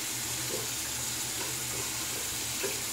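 Tap water runs in a steady, soft hiss while rinsing after a shave with a double-edge razor, continuous and fairly faint with no voices.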